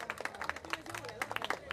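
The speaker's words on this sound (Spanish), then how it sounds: "Aplausos para Matías Arias Díaz." A small crowd claps for the top scorer at a football championship awards ceremony. The applause is quiet, scattered and uneven, with talk over it.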